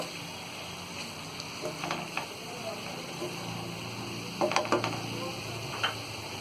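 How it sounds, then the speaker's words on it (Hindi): Tomatoes fry in a pan for aloo keema under a soft, steady sizzle, with a few clinks and scrapes as they are stirred in, close by but faint. "तो ये टमाटरों को डाल देंगे हम इसमें और टमाटर डाल के हम अच्छी तरह इसे मिक्स कर देंगे।"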